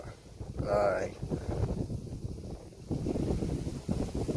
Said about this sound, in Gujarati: એક તો પવન એવો છે